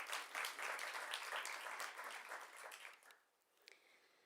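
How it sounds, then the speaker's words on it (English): An audience at a Miss Namibia legacy handover event applauds with dense clapping that holds for about three seconds and then fades out into near quiet. "I think we also need to give her a round of applause."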